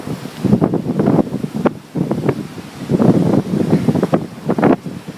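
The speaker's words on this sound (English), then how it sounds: "Waves and wind, angry clouds." Strong wind buffets the microphone and waves surge on the ocean coast ahead of Hurricane Gonzalo, with loud, gusting roars that rise and fall in rough bursts and no speech.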